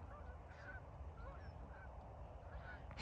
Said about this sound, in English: The geese are coming back.